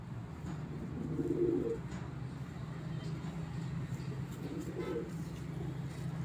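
Pigeons held in a crate coo softly in low murmuring bursts, a stronger one near the start and another toward the end, over steady background noise with a voice present.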